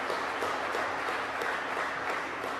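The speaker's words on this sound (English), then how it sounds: "Big round of applause for the Mayor for joining us today." Audience applause for the mayor at a local business gathering, a steady wash of many hands clapping at moderate distance, continuous for a couple of seconds with no voices over it.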